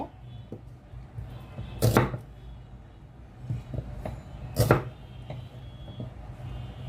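A sharp kitchen knife slicing food into four pieces, with two loud crisp chops standing out over a steady low background hum and a few softer taps in between.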